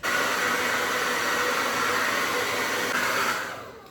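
A hair dryer running on its hottest, fastest setting blows a loud, steady rushing whoosh for several seconds before winding down at the end.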